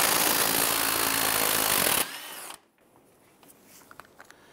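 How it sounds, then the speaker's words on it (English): A power tool spins a 19mm socket to loosen the nut on the front right outer tie rod of a 1999-2004 Jeep Grand Cherokee: a loud, steady whirring roar for about two seconds that cuts off, followed by quiet, faint clicks. "Using a 19mm socket, go ahead and loosen and remove that nut."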